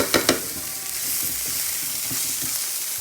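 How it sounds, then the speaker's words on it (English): Fresh garlic sizzles and hisses in a hot pan for cauliflower fried rice, a steady close frying crackle broken by a few sharp clinks of stirring early on, with no voices. "So I'm gonna add this much garlic."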